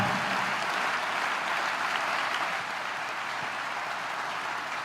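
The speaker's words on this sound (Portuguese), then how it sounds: "Aplaude a paternidade de Deus sobre a tua vida" A church congregation applauds during worship, a steady wash of many hands clapping at moderate level, evenly sustained and slightly easing toward the end, no voices on top.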